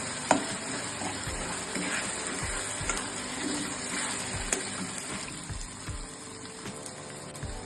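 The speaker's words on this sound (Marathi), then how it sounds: "तेल चांगलं सुटेपर्यंत फ्राय करून घ्यायचं याला" Rajasthani garlic chutney frying in oil, a steady dense sizzle with occasional stirring scrapes and small pops, close and continuous with no talking.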